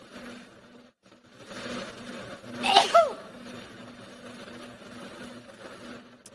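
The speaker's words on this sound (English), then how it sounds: "I'm about to sneeze." A single loud, sharp sneeze bursts out partway through. It is close to the microphone over a faint, steady background hum with quiet breathing around it.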